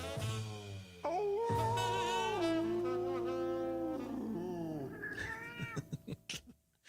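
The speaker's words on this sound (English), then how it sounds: "I like the cat." A domestic cat meows loudly and up close, one long drawn-out wailing cry that rises and falls and then breaks into a few short chirps, with no other sounds around it.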